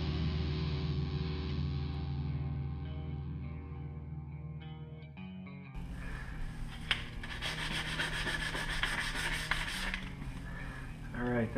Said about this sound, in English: let's get this sanded down to a nice smooth finish